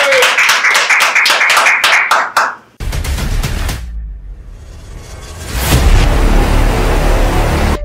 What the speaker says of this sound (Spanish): Oye, un aplauso para Nessie.